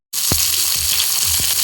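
Potatoes sizzle steadily in a hot frying pan, a loud continuous hiss with a few soft low thumps from the food or pan, and no voices.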